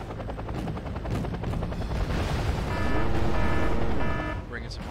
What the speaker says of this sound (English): Another Mi-2 coming in to engage with my tanks.